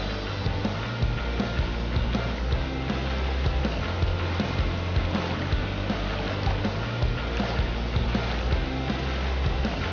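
Continuous rushing water roars steadily with a deep low rumble, a constant wash of sound from Pensal Falls in Quirino, Philippines, nearby with no pauses.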